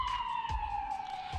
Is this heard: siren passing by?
yes